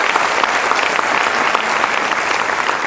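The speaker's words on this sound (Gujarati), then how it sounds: "જોરદાર તાળીઓ કાજલબેન માટે અને પોતાના માટે પણ." Steady, dense applause from an audience for someone speaker named Kajalben, sustained and even throughout without a pause.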